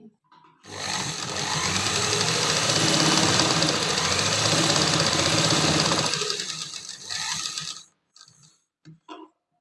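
A sewing machine runs steadily for several seconds, stitching fabric for a palazzo pant pocket, its loud, even mechanical whirr swelling and then stopping, followed by a few soft clicks, close up with no talk.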